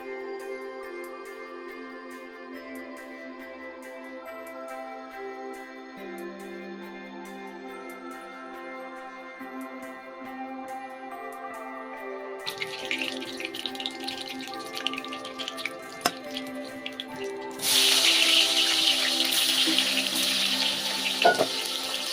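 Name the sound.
hilsa fish frying lightly in oil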